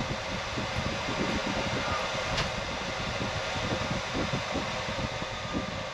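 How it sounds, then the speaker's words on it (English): A 12V DC marine air conditioner aboard a Schaefer V33 boat runs with its blower and compressor going, a steady airy whoosh with a low underlying hum, constant and moderately quiet. "The blower's gonna slow down, the compressor's also gonna slow down"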